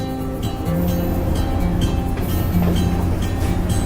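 Train travelling along Sri Lanka's coastal railway near Moratuwa, heard from an open carriage door: a steady loud rumble of wheels and wind, with rhythmic clunks, sea and waves close by.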